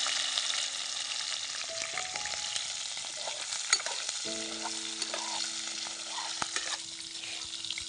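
Green chillies drop into hot oil with frying cumin seeds, a steady bright sizzle with scattered crackles and pops, close by, with a few faint tonal beeps in the background.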